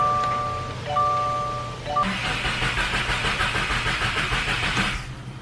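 A 2017 Subaru WRX with a flex fuel kit cranks close by with a steady rhythmic churning that runs for about three seconds after an electronic chime, then stops without the engine firing.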